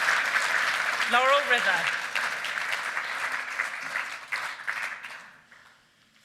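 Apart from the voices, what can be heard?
audience applause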